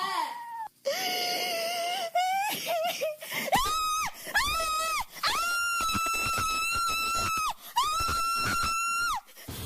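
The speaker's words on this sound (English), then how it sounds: "Sobbing followed by horrific screams." A woman sobs and then lets out repeated loud, harsh screams in long anguished bursts, close and intense, with brief gaps between the cries.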